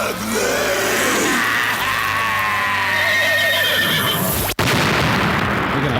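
A horse whinnies loudly and continuously over a dense, busy background, with a brief dropout near the end before the noisy sound resumes.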